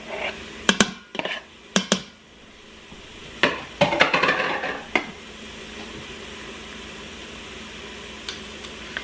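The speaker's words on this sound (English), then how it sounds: "I'm just going to saute that up just a minute" Food sautéing in a pan with tomato spread, a soft sizzle beneath sharp clinks and scrapes of a utensil stirring against the pan, busiest in the first five seconds, then quieter with occasional taps.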